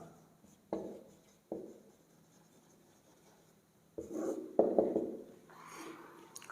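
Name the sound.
writing trigonometry formulas on a board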